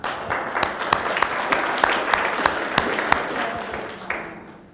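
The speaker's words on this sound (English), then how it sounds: "let's give a huge round of applause for that" A gathering at the Farm & Wilderness Foundation gives a round of applause, a crowd's clapping with a few sharp individual claps standing out, easing off toward the end.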